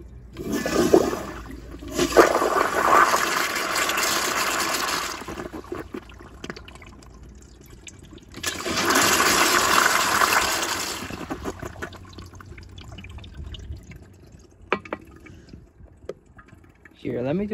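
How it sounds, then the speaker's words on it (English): Toto CT705 toilet flushed by a piston flushometer: two loud rushing flushes, each lasting several seconds, separated by quieter refill trickling, recorded up close with faint movement noise between. "let me get a close up of that flush."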